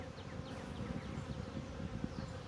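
Honeybees buzz steadily in a newly installed hive, a dense continuous drone from many insects close by with no talk over it.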